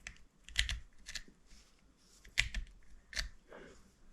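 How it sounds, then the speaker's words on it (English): Wiper switch on a Jaguar XJS being clicked by hand, several crisp mechanical clicks at irregular intervals, close and fairly quiet, with no talking. "What I have, I'll just show you that clicking action."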